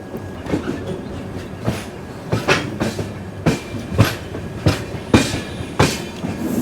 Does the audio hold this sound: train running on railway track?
yes